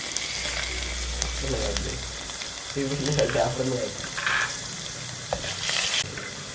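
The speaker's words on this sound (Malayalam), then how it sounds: "നമുക്ക് കടുക് ഇടാം ഉലുവ ഇടാം ഇഞ്ചി വെളുത്തുള്ളി" Mustard seeds, fenugreek, ginger and garlic sizzle in coconut oil in a clay pot for a Kottayam-style fish curry, a continuous hiss and crackle with stirring noises and bursts of splashy, watery sound.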